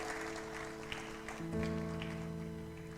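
Steady applause from a church congregation, fairly soft and sustained, with a held musical tone droning underneath.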